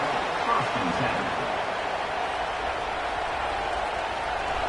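Stadium crowd in a football video game, a broad steady roar of cheering held at a constant level, with speech-like murmur mixed into the wash.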